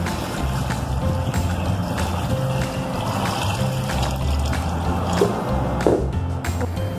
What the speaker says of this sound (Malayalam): ഇനി ഇതിൻ്റെ മുകളിൽ വെള്ളം നിൽക്കത്തക്ക രീതിയിൽ കുറച്ച് അധികം വെള്ളം ഒഴിച്ചു കൊടുക്കുക.